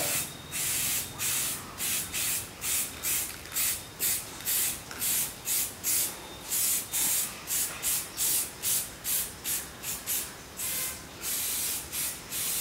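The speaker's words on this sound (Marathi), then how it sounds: "कमीत कमी 1 फुटाच्या अंतरावरून हा कलर मारायचा आहे" Spray paint hisses onto a bull's horns while the horns are coloured for the Bail Pola festival, in a steady run of short, close, sharp bursts with brief pauses between them.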